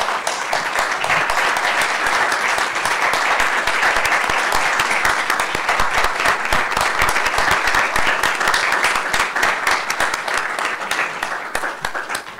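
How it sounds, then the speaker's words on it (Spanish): A seated lecture audience applauds a doctor after a talk on transhumanist existentialism in Buenos Aires, dense sustained clapping from many hands filling the room loudly for over twelve seconds. "Pues nuevamente un aplauso para la doctora."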